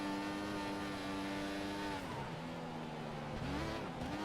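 Formula 1 race car engine in the F1 2014 video game, a steady high-pitched whine held at full revs, then dipping and rising again with gear changes, loud and continuous with no talk.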